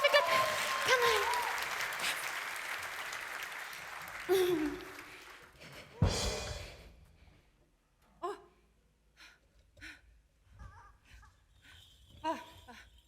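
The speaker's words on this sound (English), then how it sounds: "Clap." At a keynote conference, audience clapping swells near the start and breaks off after a few seconds, followed by a sharp burst, then scattered sparse claps and breathy vocal sounds in a quieter room.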